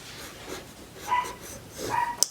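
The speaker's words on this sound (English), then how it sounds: "they start barking." Pet dogs barking indoors, a few short yips and whimpering barks close by, rising in two bursts over a couple of seconds with no talk.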